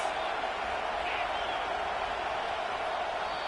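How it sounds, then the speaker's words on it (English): Football stadium crowd at a Clemson game roaring against the opposing offense, a dense, sustained wall of noise filling the whole stretch at high level, with a commentator's voice blended in. "This crowd trying to make life miserable for this offense."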